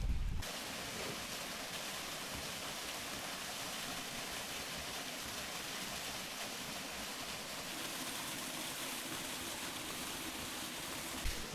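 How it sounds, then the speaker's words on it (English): A waterfall among rocks in rainy countryside between Fukuoka and Nagasaki roars as a dense, steady wash of falling water, broad and constant, after a brief jolt at the start. "Look at that waterfall and all the rocks and stuff like that."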